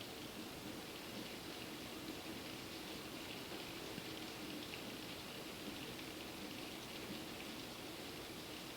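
Rain falls steadily outside as a soft, even hiss with no breaks, faint and distant, with nobody talking.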